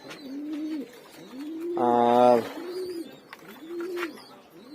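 Pigeons in a loft with grown young birds give repeated rolling coos in a steady cycle, close and clear, with a brief burst of another sound in the middle and a single spoken word.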